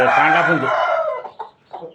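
An Aseel-type game rooster crows loudly up close, a long drawn-out call, followed by a few short clucks.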